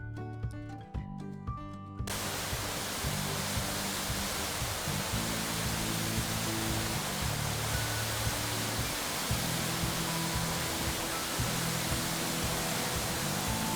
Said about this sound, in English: It offers a waterfall along the side of the road